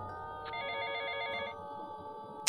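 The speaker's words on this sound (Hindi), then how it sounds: "फ़ोन बज रहा था।" A telephone rings as a sound effect in a Hindi horror narration about a hotel room at night, one electronic ring burst lasting about a second over a quiet hum, ending with a sharp click.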